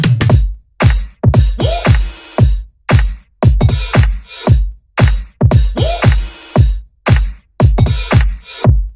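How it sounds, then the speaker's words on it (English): Electronic drums in the drop of a track, with a dry, effect-free kick; punchy, loud hits in a tight, driving pattern with sharp transients and short gaps, alone without voices. "And then we're adding these drums in the drop"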